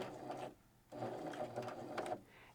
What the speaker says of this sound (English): sew a couple stitches forward, then press your back stitch